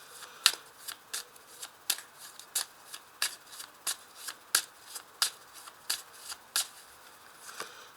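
Tarot cards being shuffled for a reading make crisp, regular riffling snaps about twice a second, close and moderately quiet, with no talk.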